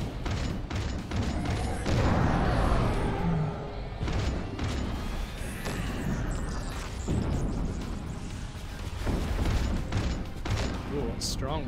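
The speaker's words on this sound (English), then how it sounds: "The muzzle flashes and missile explosions will be our guide." Dense, continuous gunfire and missile explosions in the space shooter game Overload, with repeated blasts and crackling impacts layered over a loud, busy combat soundscape, and voices mixed in at times.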